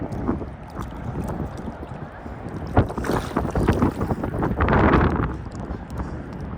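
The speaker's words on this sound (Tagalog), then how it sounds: "Medyo malamig lang kasi mahangin." Steady wind buffets the microphone on a breezy seashore at low tide where clams are gathered, a broad rushing roar with gusts building toward the end, mixed with faint background voices.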